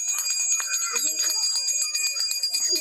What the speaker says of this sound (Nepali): सँगसँगै हाम्रो घण्टी बजाउने प्लिज तपाई घण्टी फेरि पनि बजाइदिनु होला